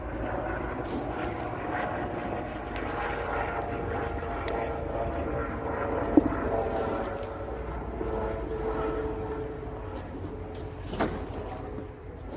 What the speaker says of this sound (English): Sounds like the police helicopter is coming overhead.